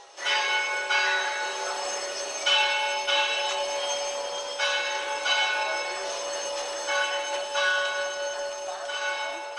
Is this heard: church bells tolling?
yes